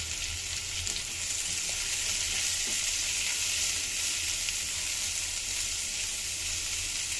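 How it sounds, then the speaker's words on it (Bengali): Onion paste fries in a generous amount of oil in a home kitchen pan, giving a continuous, even, close sizzle with soft crackles throughout and no voices. "পেঁয়াজটা কষানো হয়ে গেছে"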